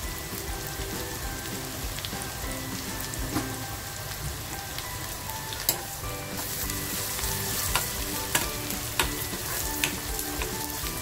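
Green and red chillies with a pinch of asafoetida sizzle steadily in hot oil for tomato chutney, a dense, continuous crackle broken by a few sharp pops and spoon clicks, with no talking.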